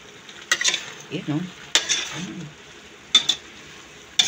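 Adobong sitaw and kangkong with a little meat being stirred in a pan, with several scraping strokes of a utensil against the pan over a soft sizzle and a brief voice.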